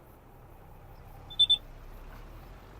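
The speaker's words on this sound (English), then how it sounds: "Why are you beeping? Oh, you need fuel as well." Farming Simulator 25 tractor sounding a low-fuel warning: two short, clear electronic beeps in quick succession, moderately loud over a faint low background hum.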